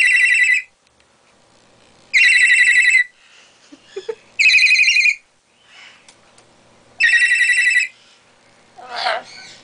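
Pet bird named Sammy mimicking a cell phone ringtone: four bright, evenly spaced electronic ring bursts of under a second each, clear and close. A short squawk follows the last ring.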